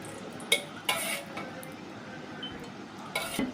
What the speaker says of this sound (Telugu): అదే ప్యాన్ పెట్టుకొని ఇప్పుడు టూ టేబుల్ స్పూన్స్ ఆయిల్ వేసుకోవాలి